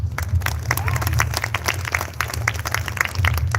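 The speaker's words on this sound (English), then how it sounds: "give our speakers a round of applause." An audience claps for the speakers at a public library event in Monticello, NY. The applause is scattered and moderately close, with individual claps standing out over a low, steady hum, and a voice is briefly heard.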